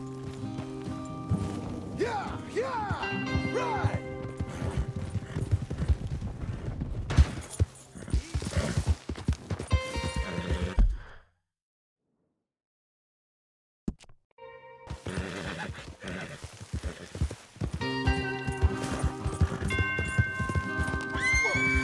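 Horses in the Red Dead Redemption 2 game clop along with hooves thudding rhythmically, whinnying loudly and creaking tack over a game soundtrack, before a sudden silent break and then more hoofbeats and movement.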